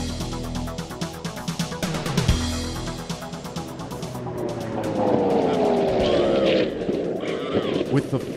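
The Speed Demon streamliner car roars along on a land speed run, a loud engine note that surges and climbs in pitch as it accelerates away, heard alone with no talk.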